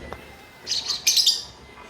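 A lovebird being trained for free flight lets out a few bright, high chirps in two short bursts, fairly close and clear over a quiet background, with no talking.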